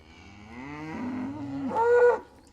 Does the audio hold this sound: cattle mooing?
yes